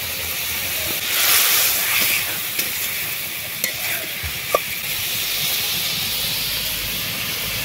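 Water poured into a hot pan with ginger, mustard and poppy seed paste and turmeric sets off a loud, steamy hiss, settling into a steady sizzle with a few sharp utensil clicks.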